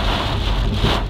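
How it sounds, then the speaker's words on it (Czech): Rain from a storm in Prague pours steadily with heavy gusting wind, a loud continuous rushing wash close to the microphone with buffeting low rumble. "máme tady hurikán v Praze"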